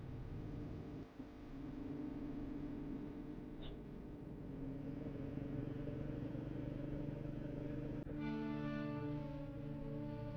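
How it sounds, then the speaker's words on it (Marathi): A steady engine hum and road rumble from inside a car moving along a quiet Konkan coastal road, continuous and even, with no other traffic or voices around. "फक्त आपल्याच गाडीचा आवाज येतोय"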